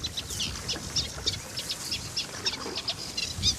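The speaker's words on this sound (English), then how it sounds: "That's a reed warbler, just in there." A reed warbler sings from within a reedbed, a fast, chattering run of repeated high chirps and churring notes, moderately close, over a low wash of ambient background noise.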